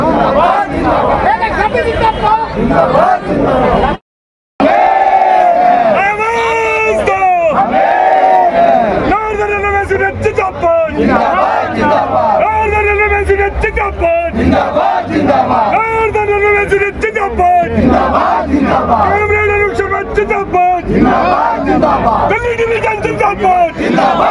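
A large crowd at a railway trade union election rally shouts slogans in loud rhythmic chants, voices rising and falling in waves with a brief cut of silence near the start, continuing close and dense throughout.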